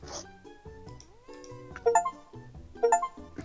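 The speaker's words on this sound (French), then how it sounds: "Ah, là, il y a un chat." A cat meows a few times in a video game, short tonal cries mixed with chiming game music and dings, fairly close and clear, with no speech.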